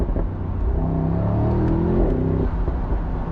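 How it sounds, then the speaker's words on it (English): A 2025 Mercedes-AMG SL 63 convertible, roof down in race mode, blares its engine and exhaust on a downshift, a loud rising rev with harmonic growl that holds, then drops away near the end. "and you hear the engine and exhaust that much more"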